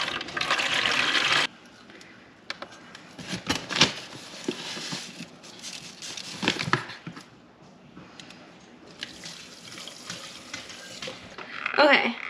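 Warm water pours into a container while setting up a beehive, a steady liquid rush that starts loud, breaks off, then returns in uneven splashy bursts.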